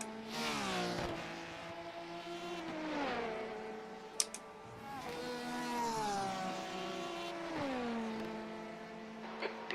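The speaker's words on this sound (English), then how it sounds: "there's a faster car approaching" Racing car engine in a Le Mans endurance racing game with a Porsche 991 RSR, a steady droning whine that swells and falls as revs shift, with a brief sharp click near the middle.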